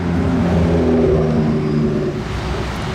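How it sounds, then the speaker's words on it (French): A Ferrari 612 Scaglietti V12 idling loudly just after start-up on a street in Monaco, a dense steady engine drone with layered low tones, easing slightly in the final second. "Et le bruit du V12 au démarrage ne m'a pas déçu les amis."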